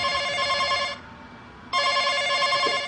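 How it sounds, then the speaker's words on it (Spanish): A telephone rings in two loud, close electronic trill bursts separated by a short pause, with no talk over it. "Está sonando el teléfono."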